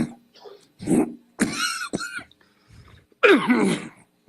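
A few harsh coughs and throat-clearing bursts, close and loud, separated by short pauses with faint background noise.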